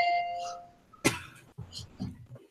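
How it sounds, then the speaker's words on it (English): A doorbell chimes once with a sharp, bright ding, preceded by a fading tone and followed by soft indistinct talk and rustling. "Doorbell."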